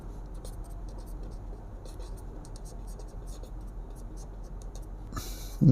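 Pen or pencil scratches steadily across paper at close range in a classroom-style setting, with a soft voice murmuring under the writing.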